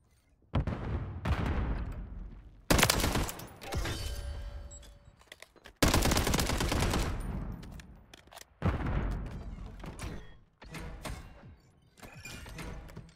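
MTZ 762 rifle firing in Modern Warfare 3, loud close bursts of gunfire separated by short pauses, with a couple of sharp, heavier blasts standing out.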